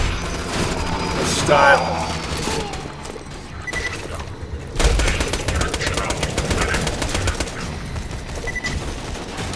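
Rapid gunfire in Borderlands 2 with Zer0, continuous chattering bursts and impacts, loud and close, with a short spoken line over the shooting.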